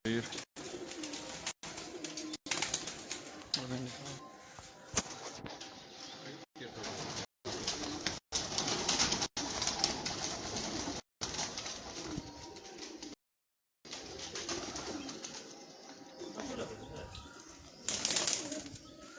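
Pigeons coo and flap their wings close by amid a busy loft of prized racing birds, soft throaty calls and bursts of fluttering over a constant murmur, with people talking throughout.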